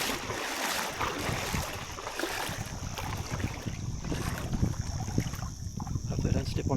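Waves wash steadily onto a beach on a breezy day, a continuous broadband surf roar with gusts of wind buffeting the microphone throughout, fairly loud and close, with no talking.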